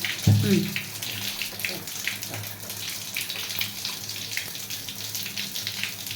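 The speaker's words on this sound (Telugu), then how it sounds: "ఇది వేడి నీళ్ళ నల్ల, వేడి నీళ్ళు వస్తాయి" A hot water tap runs in a household bathroom with a young child nearby, giving a continuous close splashing stream after a short bump at the start.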